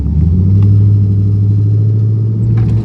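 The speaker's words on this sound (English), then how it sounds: "A very short-lived test drive." Third-generation Chevrolet Camaro on a brief test drive, its engine giving a steady, loud low rumble from close by, holding an even drone throughout with no voices.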